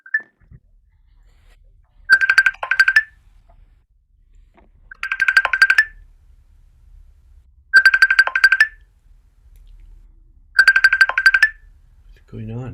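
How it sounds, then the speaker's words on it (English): A phone rings with an incoming call during an online gong session, four bright electronic ringtone bursts evenly spaced about three seconds apart, loud and close against near silence. "someone's trying to call you"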